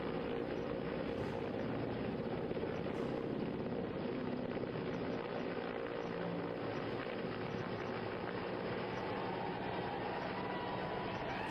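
An Indian Air Force rescue helicopter's rotor and engine roar continuously and loudly at close range as a soldier is lifted on a rope, a dense, unbroken mechanical drone with no pauses.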